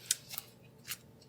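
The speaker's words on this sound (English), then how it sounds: "So these are my cross stitch scissors." Cross stitch scissors handled up close, giving three crisp metallic snips or clicks spread over about a second against a quiet background.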